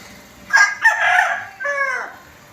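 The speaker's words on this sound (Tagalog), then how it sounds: "Maraming manok dito guys" Chickens at close range, with a rooster crowing loudly in a full, clear call, followed by a shorter crowing or clucking phrase.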